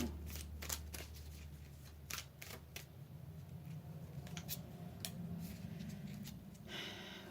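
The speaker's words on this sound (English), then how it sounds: "Let's pull a couple more tarot cards here" Tarot cards riffled and drawn from a deck during a reading, giving a run of soft papery flicks and snaps at close range over a low steady background hum, with no talking.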